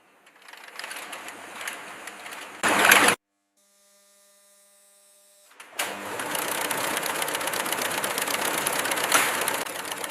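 Silk-twisting machinery in a factory whirs with a steady, loud mechanical drone, cut off by a brief near-silent gap before the dense rattling hum resumes and continues, close up with no voices.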